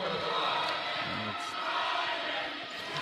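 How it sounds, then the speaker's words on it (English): Ballard home crowd at a high school basketball game cheering and roaring steadily, a dense wash of voices filling the gym for a few seconds. "Boy, the Ballard crowd is getting into it."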